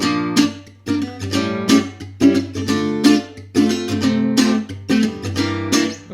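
An acoustic guitar strums a worship-style chord progression, each chord ringing warmly in a steady rhythm of rich, full strums, played close and alone.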